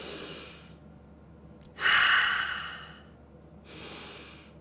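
Deep breaths drawn in during a stretching warm-up before baking, a few slow audible inhales and exhales close by, with quiet pauses between them and no talking.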